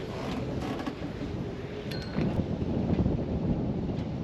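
Steady wind of about 11 knots rushes and buffets the microphone throughout, with a faint clink or two in the background.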